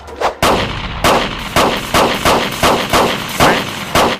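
Rapid gunfire from a film fight scene in which a thug empties his gun: about nine sharp, loud shots at a fairly steady pace, close and dominant, with no speech.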